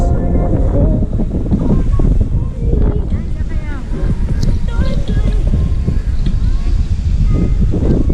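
Strong sea waves at Cresta de Gallo crash and churn with heavy wind buffeting the microphone, loud and continuous, while people shout and talk over the surf.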